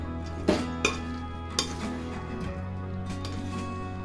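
Boondi ladoo being stirred in sugar syrup in a pan with cardamom powder, a few sharp metallic scrapes and clinks of a spoon against the pan over a low steady background hum.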